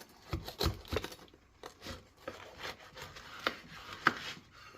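Knife cutting into a freshly baked BBQ calzone from a Blackstone pizza oven, with several soft crunching, sawing strokes through the crust at close range, quiet and irregular.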